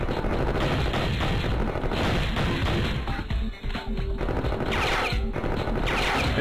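Dense, continuous gunfire in an Adobe Flash game, loud and sustained, with rapid bursts packed together and a brief lull midway before shooting resumes.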